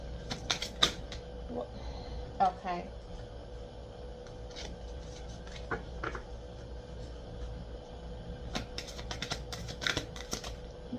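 Tarot cards shuffled by hand in irregular bursts of riffling and soft slapping, close and moderately loud over a low background hum, with a single short spoken word.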